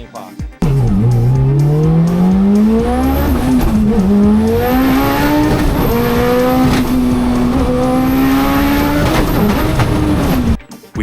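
A 1300 hp all-wheel-drive Mitsubishi Colt drag car makes a loud, close pass, with a rising engine note, gear changes and brief tire squeal that runs unbroken for about ten seconds.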